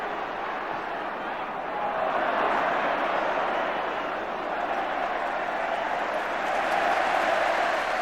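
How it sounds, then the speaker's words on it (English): Crowd on the Kop at Anfield applauding Gary Gillespie during the 1987 Liverpool v Everton match, a broad steady wash of clapping and crowd noise holding for the whole stretch. "The applause on the Kop is for Gary Gillespie."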